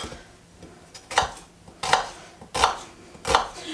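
A knife cuts vegetables into thick half-moon slices on a board, with four distinct chopping thuds spaced roughly evenly and quiet pauses between them. The strokes are close and clear, and no one speaks.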